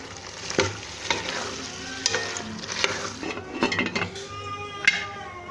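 Cauliflower florets and potatoes fry for aloo gobhi, sizzling softly in a pan while a spoon stirs them, with sharp metallic clinks and scrapes at irregular intervals over a low, constant hiss.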